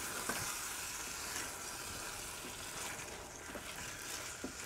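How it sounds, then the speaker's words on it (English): Spaghetti sizzles and crackles steadily in a hot pan while being stirred, a close, continuous frying hiss broken by a few soft scraping taps. "I know I said I wouldn't stir it again, but I want to"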